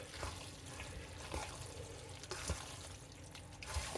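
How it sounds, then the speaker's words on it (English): Water poured into a pan of homemade nacho cheese hamburger helper pasta, a quiet continuous splashing trickle with a few soft knocks, close by and without speech. "Now let's add us a little water."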